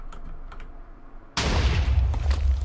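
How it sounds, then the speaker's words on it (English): A TNT meteor explodes in the Minecraft video game, bursting in suddenly after a quiet stretch and holding as a loud, sustained, crackling roar to the end. "Well, there's the explosion."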